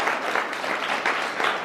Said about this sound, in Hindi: तो लक्ष्य के लिए तालियां हो